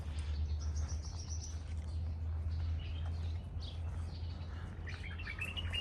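Small birds chirp and twitter in scattered bursts against a steady low outdoor rumble in the Al Ain Oasis, UAE, with a brighter run of tweets near the end.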